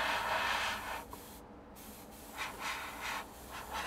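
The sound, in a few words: airbrush spraying neat paint on a 1/48 Junkers Ju 88 model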